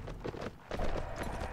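Quick, uneven hoofbeats clatter close by in Mount & Blade: Warband, a horse moving at pace over a noisy background.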